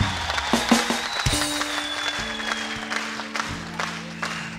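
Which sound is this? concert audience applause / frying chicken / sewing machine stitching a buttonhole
concert audience applause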